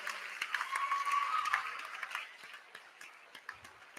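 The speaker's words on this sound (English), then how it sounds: "Give a big round of applause to these folks who have been parts of our program." An audience claps at a girls' varsity game, a dense burst of applause peaking in the first two seconds and then thinning into scattered individual claps, with no voices.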